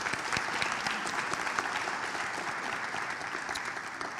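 A crowd at a county citizens academy graduation ceremony applauds steadily, a dense even wash of many hands throughout, with no clear talk over it.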